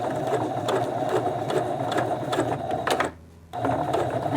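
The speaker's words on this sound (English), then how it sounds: "now I'm going to back stitch." A sewing machine runs a zigzag stitch while back stitching on a reversible hoodie during a zipper replacement, a loud, close, steady mechanical whir with rapid ticking that stops briefly near the end and then resumes.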